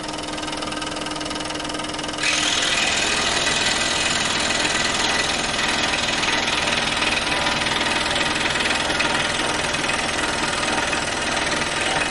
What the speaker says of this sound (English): We'll cut out an inch thick cedar now, and I'll just go straight through it just to see some variety here.